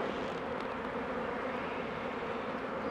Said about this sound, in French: Quelques abeilles qui tournent, mais ça c'est normal.